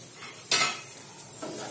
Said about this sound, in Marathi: थोड्याशा व्यवस्थित परतल्यानंतर आपण याच्यामध्ये आपला हा उरलेला थोडा मसाला टाकून देऊया।